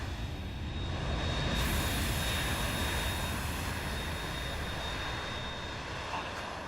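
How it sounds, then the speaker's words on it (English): A Harrier jet flies overhead, its loud, steady engine roar holding throughout, broad and continuous with no voices over it. "It's the Harrier."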